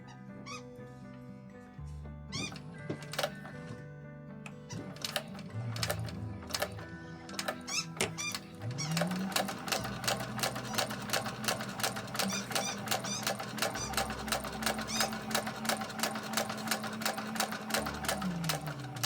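A sewing machine stitches a handbag front panel at a quarter-inch seam: first slow, uneven stitching with pauses, then a long, steady, rapid run of needle clatter with squeaky mechanical ticks, close by.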